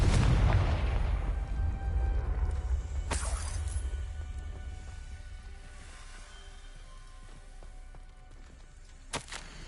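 A Confringo blasting curse from the video game Hogwarts Legacy goes off in a loud fiery explosion that rumbles and fades over several seconds, followed by a couple of sharp, distant pops.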